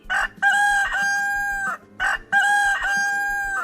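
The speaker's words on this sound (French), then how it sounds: "Une arrivée annoncée par le coq à Jean-Paul." A rooster crows twice in close succession, each call a loud, drawn-out cock-a-doodle-doo with a rising start and long held note, heard near and clear with no talking.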